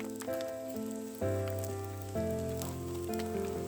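Kimchi pancake frying in a pan of mixed cooking oil and perilla oil over a log fire at a campsite, a soft steady sizzle under faint tonal background sounds, with no talk.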